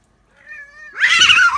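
A domestic cat gives one clear drawn-out meow that rises into a harsher, louder, wailing caterwaul. It is close and loud, with only quiet silence before it and no talking.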